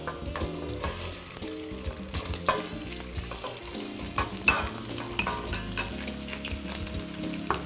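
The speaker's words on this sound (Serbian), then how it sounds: "Sada u lonac na vruće ulje dodamo komade janjetine" Lamb pieces fry and get stirred in hot oil in a pot for Mostar-style kalja, with a continuous sizzle, scraping stirs and background music.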